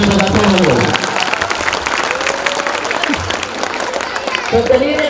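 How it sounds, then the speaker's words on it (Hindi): Audience applause for a school drama staged by eighth-grade boys, a dense, steady clapping from a full hall lasting throughout, with voices and harmonic speech-like tones mixed in near the start and end. "बच्चों के लिए जोरदार ताली बजाते रहो"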